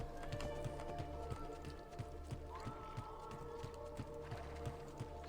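Horse hooves clip-clop in a steady, even rhythm in the video game Assassin's Creed 2, moderately close, over a low droning background with faint ambient tones.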